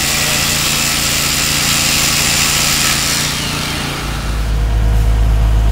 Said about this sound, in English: Here we are drilling all the holes.